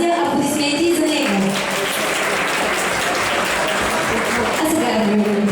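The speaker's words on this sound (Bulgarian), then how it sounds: "Аплодисменти за него." Steady applause from a crowd honoring graduates of a Bulgarian high school, filling the whole stretch evenly, with faint voices and music tones showing through beneath the clapping.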